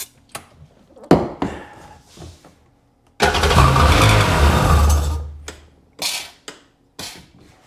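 Seadoo 951 DI jet ski engine cranking and catching, a few cranking bursts and clunks before it fires into a loud, rough run for about two seconds, then cuts off, followed by more sharp mechanical knocks.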